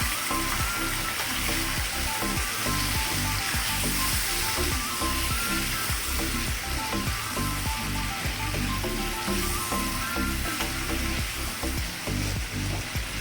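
A potato and pointed gourd korma sizzles and bubbles loudly in the pan right after hot water is added, a dense continuous hiss that stays close and steady throughout.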